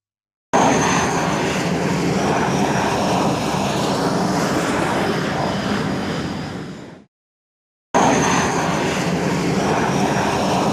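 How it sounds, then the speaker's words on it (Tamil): An airplane roars at an airport, its loud, steady engine noise filling the air before cutting off abruptly, then resuming after a short silence. "இங்கதான் ஏரோப்ளேன் டேக் ஆஃப் ஆகும் அதே மாதிரி லேண்ட் ஆகும் அது ரொம்ப ஃபாஸ்டா போகும்"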